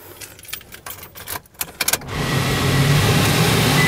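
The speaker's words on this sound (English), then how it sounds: "let me jump in now and turn on the vehicle" A 2006 Toyota Tacoma double cab pickup being started: keys jangle and clunk close by, then the engine fires and settles into a steady, loud idle.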